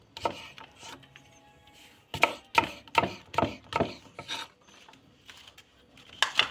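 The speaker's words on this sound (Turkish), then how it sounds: "Samsak doğranır, biber doğranır içine." Garlic, peppers and onion being chopped for türlü, a series of sharp knife strikes on a board, a few isolated cuts followed by a quicker run of close, crisp chops with quiet scraping between.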